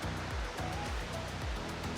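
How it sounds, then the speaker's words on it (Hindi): Small rain-fed roadside waterfalls along a coastal drive near the Great Barrier Reef, a steady, even rush of running water with a few faint low thumps, heard alone at moderate level throughout. "ये छोटे छोटे से झरने से बन गए हैं बारिश की वजह से"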